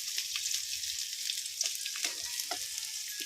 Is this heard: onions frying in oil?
yes